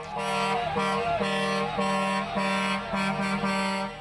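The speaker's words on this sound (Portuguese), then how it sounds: "As buzinas eram o som do alívio chegando." Aid truck air horns blare in a long, loud sustained blast with repeated pulsing honks, rich and brassy, no voices, as trucks arrive near Gaza.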